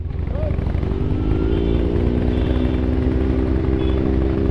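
Harley motorcycle engine running steadily and fairly close, a deep continuous rumble with a slight rising tone, the level holding even through the whole stretch with a voice faintly underneath.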